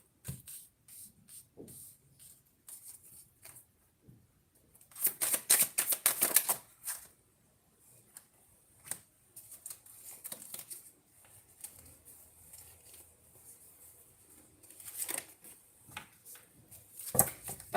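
A tarot card deck being shuffled, with bursts of riffling and card flicks, loudest around the middle and near the end, separated by quieter stretches of soft handling.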